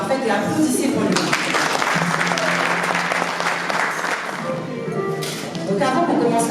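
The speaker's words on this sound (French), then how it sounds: "applaudissez pour lui" Audience applause at a Malian real estate investment event, dense clapping from a crowd with voices talking and cheering over it, loud and sustained.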